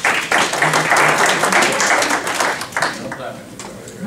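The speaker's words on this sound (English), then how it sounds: "We do allow clapping." Residents at a special town meeting clap together in a dense, loud burst that gradually thins and fades, with voices in the room mixed in beneath the applause.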